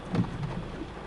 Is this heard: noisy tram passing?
no